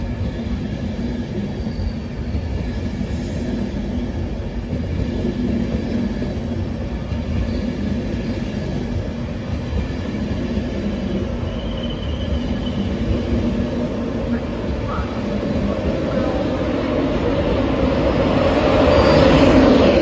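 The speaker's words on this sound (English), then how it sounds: "Next in, the 13:08 LNER Intercity 225 service from Leeds to London." LNER Intercity 225 express train led by a power car arriving at Doncaster station, a steady rumbling rail roar with wheel noise that swells louder toward the end as it draws near.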